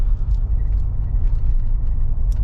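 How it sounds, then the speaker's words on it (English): Cabin sound inside a Mercedes G-Class AMG SUV on the move: a loud, steady low rumble of road and engine noise with no music or talk. "I'm driving with no sounds on, so you can kind of have a perspective of what it sounds like to be in this car."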